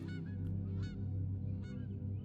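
Geese honking, several loud nasal honks and cackling calls from a group, close and overlapping in quick bursts over a low steady background hum.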